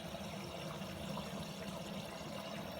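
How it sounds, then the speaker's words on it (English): Water flowing into the drum of a Hotpoint WMA40 washing machine during the fill, a steady low watery rush under faint hum, continuous and fairly quiet throughout. "Water's coming in."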